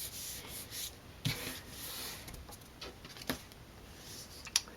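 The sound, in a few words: burnishing a vellum covered card by hand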